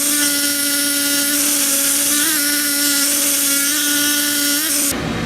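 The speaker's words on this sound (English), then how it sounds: "drill your holes to suit your application" A loud, steady whine of a power drill boring holes in a Vespa PX classic windscreen, its pitch wavering slightly as it works, then cutting out near the end.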